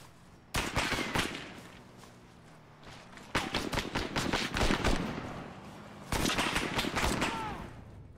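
Gunfire in the video game ARMA 3: bursts of rapid shots come in three dense clusters, loud and close, separated by quieter stretches of ambient game noise with scattered single cracks.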